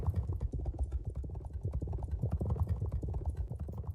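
Horses' hooves drum in a steady, rapid clip-clop during a horse race, a dense rolling patter held at moderate loudness throughout with no voices over it.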